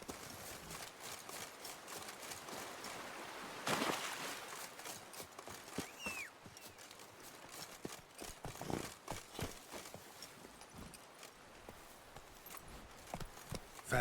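Horse Roach galloping in The Witcher 3, a rapid, steady clip-clop of hooves on ground running throughout, with a brief whoosh and a faint call partway through.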